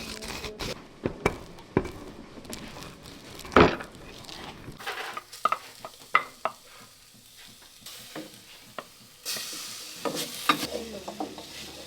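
Onion and garlic fry in a pan during a home cooking lesson in Munduk, Bali, with a steady sizzle under repeated scraping and stirring strokes and a few sharp utensil clinks.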